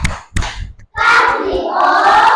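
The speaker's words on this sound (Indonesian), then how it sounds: "Kasih tepuk tangan." A class of students in an Islamic education lesson claps their hands in a few sharp, rhythmic beats. Young voices then join in a loud, sustained group chant or cheer.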